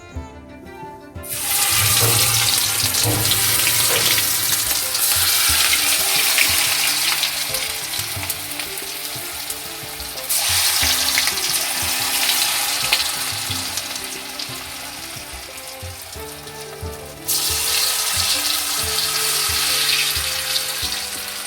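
Palm kernel fritters dropped into hot oil set off a loud, dense, continuous crackling fry that keeps going for the whole stretch, surging in waves, with no voices.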